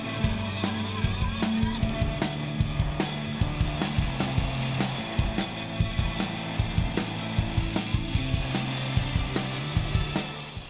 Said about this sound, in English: As soon as the blade starts moving, I'll drop it down and it will then start the circle cut.